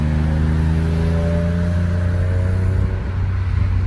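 A BMW E46 M3 engine pulls hard after a downshift, its loud, steady revving drone rising slowly in pitch, heard close from inside the car with no talking.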